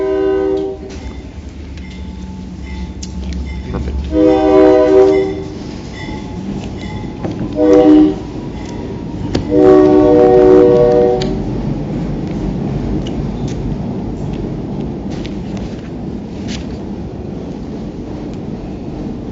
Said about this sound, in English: And we have a train.